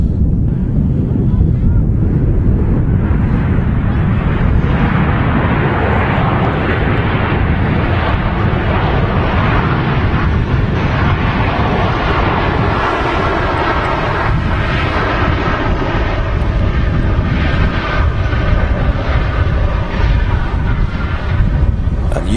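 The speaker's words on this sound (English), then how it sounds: "we have a Ryanair 737-800, flight 1264" A Ryanair Boeing 737-800 jet airliner arriving at Manchester Airport from Ibiza, its engines giving a loud, steady roar that holds through the whole stretch, with wind buffeting the microphone and someone talking over it now and then.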